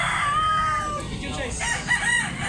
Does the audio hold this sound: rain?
no